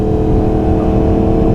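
A 600cc sport motorcycle engine drones steadily at fairly low revs, loud and close, a constant dense hum with no talking.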